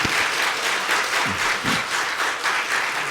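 A church congregation at an opening worship service claps warmly for visiting trainees, a dense, even round of applause from many people lasting a few seconds.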